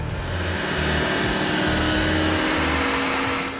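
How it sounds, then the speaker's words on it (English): A car engine pulls under load on a dynamometer, being run through its gears, giving a loud, steady, close-up drone with strong low rumbling harmonics from start to finish. "we run the car through the gears and we get a very accurate sound that way"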